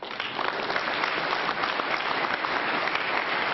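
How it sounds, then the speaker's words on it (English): Steady applause from an audience at an evening talk at the University of Texas, many hands clapping in a dense continuous wash that holds evenly from start to finish with no talk over it. "go and give yourself a round of applause"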